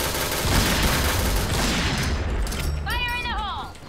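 Gunfire from a dragon-skinned sniper rifle in the mobile shooter Free Fire, loud bursts under an excited voice shouting over the shots.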